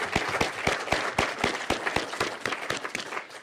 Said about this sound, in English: and I think a final round of applause, if you will,